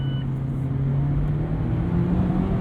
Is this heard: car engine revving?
yes